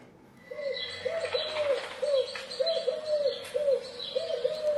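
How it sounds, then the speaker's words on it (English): A pigeon coos repeatedly in a steady rhythm, fairly close and clear, with faint background noise and no voices. "It's that bloody pigeon."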